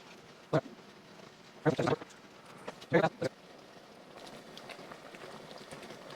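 Jalapeno jelly mixture with pectin boils in a pot, giving a faint, steady bubbling broken by a few sharp clinks and knocks.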